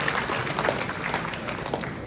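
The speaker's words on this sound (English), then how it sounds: "Can we have a huge round of applause," A short burst of crowd applause rises, with many hands clapping in a dense, moderately loud patter that runs steadily through the clip.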